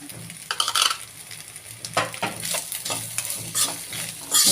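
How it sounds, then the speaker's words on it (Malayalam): Butter pasta stirred in a pan with chilli sauce, giving close, uneven scraping and clinking strokes over a soft sizzle, with no one talking. "നല്ലപോലെ ഇളക്കാം കേട്ടോ"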